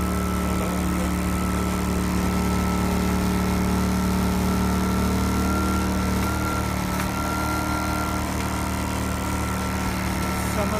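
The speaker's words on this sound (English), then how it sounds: "The revs adjust to the load, so it has automatic economy mode." A small 3.8 kVA portable generator engine with automatic economy mode hums steadily at close range, a constant droning motor with a faint tonal whine, running without pause throughout.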